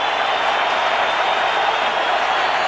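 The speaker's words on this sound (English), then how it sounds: "Crowd trying to be the 10th player." A large baseball stadium crowd at a 2003 Twins playoff game roars in a steady, dense wash of cheering and noise, sustained and loud throughout with no distinct voices standing out.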